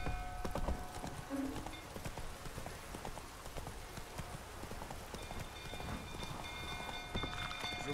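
Horse hooves clip-clopping steadily from Roach, Geralt's horse in The Witcher 3, over a busy game soundscape with rain-like patter, faint voices and brief tonal effects.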